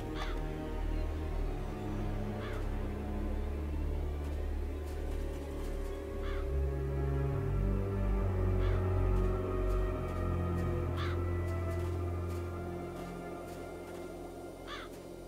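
Raven caws in the game Satinavs Ketten, a handful of sharp calls spaced a couple of seconds apart over a steady, dense background of game music and ambience.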